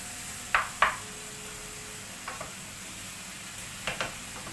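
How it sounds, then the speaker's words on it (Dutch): Fresh mushrooms frying in a pan, with a low steady sizzle and a few sharp knocks of a ladle stirring them, near and alone without talk. "Bakken de champignons."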